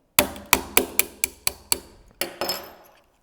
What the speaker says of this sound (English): This gun is new, so I'm going to use a hammer just to